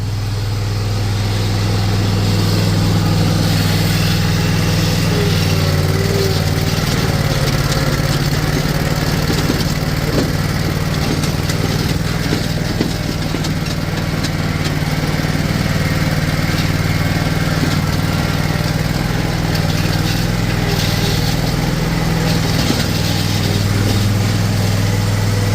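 A lawn mower engine drones loud and continuously up close at an outdoor lawn care job, a steady unbroken hum with faint rattles over it.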